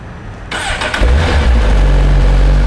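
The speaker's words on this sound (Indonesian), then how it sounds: "ini adalah suara dari GSX R1000R" A Suzuki GSX-R1000R four-cylinder motorcycle with its stock exhaust is started up close: a starter whir catches about a second in and settles into a loud, steady, deep idle rumble.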